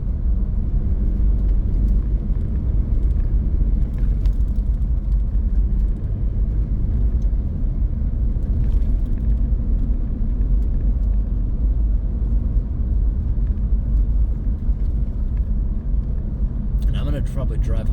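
Truck driving along unplowed snowy wilderness roads in very cold weather, a steady, loud low rumble of engine and tires that continues without a break throughout.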